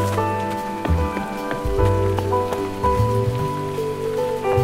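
Heavy rain pours down steadily in the video game Figment 2, in the Creed Valley level. A dense patter of drops continues throughout with soft tonal music beneath and no voices.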